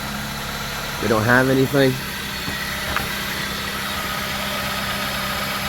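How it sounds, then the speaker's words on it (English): A Dodge Avenger car engine idling steadily after an oil change, heard up close from underneath the car: a constant mid-low hum and vibration throughout, with someone speaking briefly over it near the start. "start the car, get under here, and look for any leaks"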